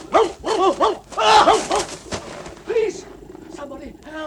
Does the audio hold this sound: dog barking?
yes